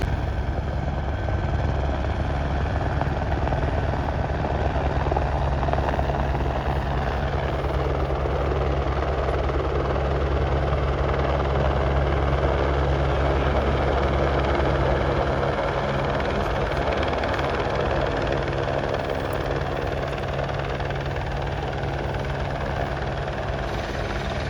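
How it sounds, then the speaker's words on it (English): A Bolkow Bo 105 helicopter with a rigid rotor flies at an airshow training day, its loud rotor chop and turbine drone steady and sustained throughout, dominating the whole recording. "the Bolko Bo 105 has flexible composite blades bolted directly into a rigid monoblock head"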